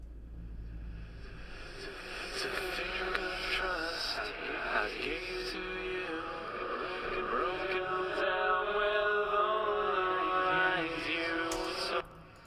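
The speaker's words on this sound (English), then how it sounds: "the delays and reverbs swelling instead of decaying" A washed-out, backwards-sounding vocal swelling with reverb, rising in intensity and then cutting off abruptly at the end.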